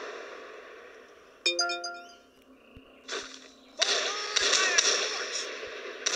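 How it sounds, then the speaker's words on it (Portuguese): Gunshots in the war video game Noblemen: 1896, scattered sharp cracks among a ringing metallic tone and later a thicker burst of crackling fire, moderately loud against a quiet background. "Caramba, de onde tá vindo esse tiro?"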